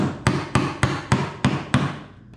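Chisel chopping into wood along a knife-scored gauge line while cutting a twin tenon and dado: six sharp, evenly spaced mallet strikes ring out close and loud, each with a short decay, then quiet.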